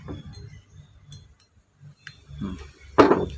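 An engine valve is checked with a simple hand tool, giving a sharp pop near the end after quieter clicks and taps.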